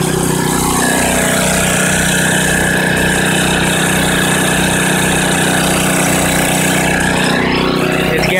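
A gasoline 5,000-watt consumer generator from Home Depot runs loudly and close, a constant rough engine drone with a steady pulsing low thump and broad mechanical noise, unbroken and alone.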